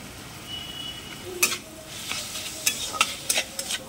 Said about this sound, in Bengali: এই দেখো আলু সেদ্ধ মাখাই আছে, আলু সেদ্ধগুলো দিয়ে দিলাম।